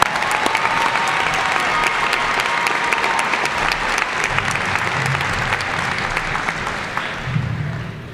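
Loud, sustained applause from a graduation ceremony audience at a high school commencement, dense clapping filling the whole stretch without a break, with faint crowd murmur beneath.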